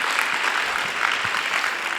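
Audience applause at a leadership coaching talk, a dense, steady round of clapping filling the whole moment, fairly close, with no speech over it.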